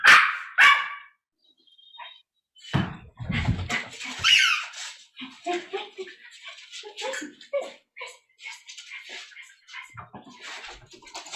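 Barking from a pet dog, a few sharp yips and bursts near the start and middle with squeaky toy-like chirps and a voice talking intermittently around them.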